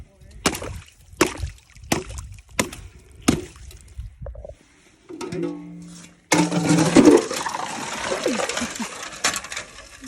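Ice being struck and broken over frozen rainwater in winter: a run of sharp, separate cracking impacts, then sloshing water and crunching ice chunks, close by.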